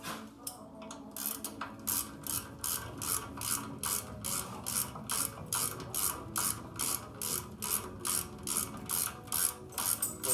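A ratchet cranks brake caliper bolts tight on a 1992 Chevrolet Silverado during a brake replacement, producing a long run of rapid, regular clicks, close up and steady with no voices.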